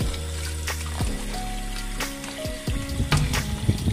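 Water poured off and rinsing freshly boiled udon noodles while preparing udon with beef, a steady close splashing and running flow with a few clinks of cookware, no talk.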